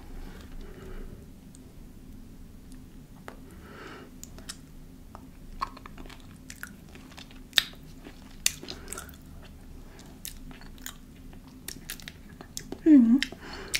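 Someone tastes and eats homemade vegan tzatziki into a close microphone, producing sparse, faint wet mouth clicks and soft chewing sounds over a quiet background.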